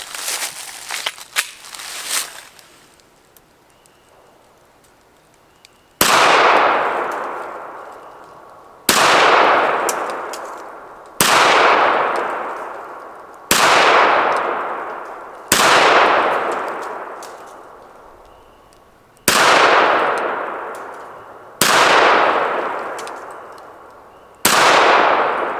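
A KelTec PMR 30 pistol fires 40-grain CCI Maxi Mag rounds: about eight sharp, loud shots spaced a couple of seconds apart, each with a ringing decay, following a few faint clicks and handling noises.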